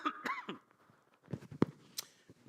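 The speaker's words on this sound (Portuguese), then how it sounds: "Não serve café para mim, eu estou tossindo." A man coughs near the microphone, a few rough throaty bursts early on, then scattered fainter coughs and throat clearing in a quiet room.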